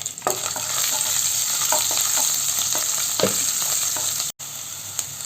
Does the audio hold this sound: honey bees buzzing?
no